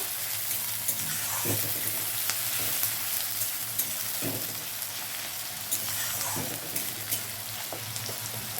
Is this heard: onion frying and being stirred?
yes